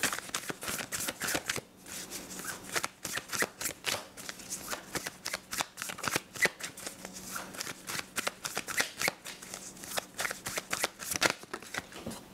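Tarot cards shuffled back into a deck by hand, a steady run of soft riffling flicks and papery slaps lasting the whole stretch, close and moderately quiet with no talk over it.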